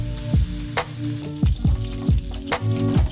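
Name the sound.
frying duck fatty skin to make oil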